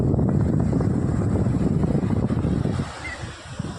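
Sea surf rushes onto the shore at Unchakotda in a steady, loud wash with wind buffeting the microphone, easing slightly near the end.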